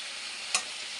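Cauliflower and mixed vegetables fry in a pan, a faint steady sizzle with one brief louder scrape of stirring in the middle.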